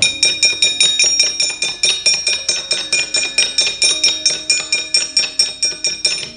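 A Javanese gamelan rings out loud and close, its bronze metallophones and gongs struck in a steady, brisk rhythm of bright, shimmering metallic tones that sustain throughout, with no talking.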